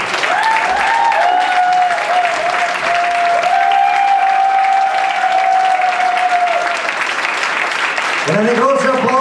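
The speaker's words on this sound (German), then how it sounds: "Ein großer Applaus für Spoina Babic, unsere Dirigentin, und unsere Kirchenchor, Sveti Vasilije Ostroški." A live concert audience applauds a church choir and its conductor with steady, dense clapping throughout, and a voice sounds over the crowd near the end.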